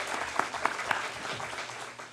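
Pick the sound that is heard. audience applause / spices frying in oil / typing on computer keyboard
audience applause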